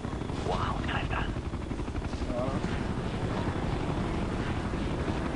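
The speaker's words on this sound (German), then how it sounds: "Ich wollte den Hubschrauber zerstören." A helicopter in the video game Ghost Recon: Future Soldier drones steadily with a rapid rotor chop, loud and constant, with brief game sounds over it.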